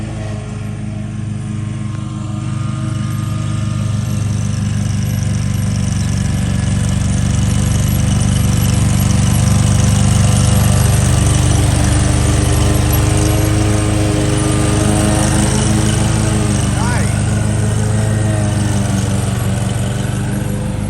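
A Ferris riding lawn mower cuts grass on a cold day, its bagger holed at the bottom; the engine drones loud and close at an even, unbroken pitch for the whole stretch, swelling slightly in the middle.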